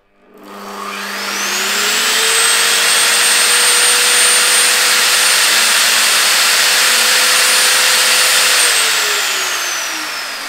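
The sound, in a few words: table saw running smoothly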